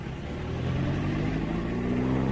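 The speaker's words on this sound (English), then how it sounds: "My Timothy, this traffic really is appalling" A car moving slowly through heavy traffic, its engine humming in a low, steady drone that builds slightly, heard from inside with no voices.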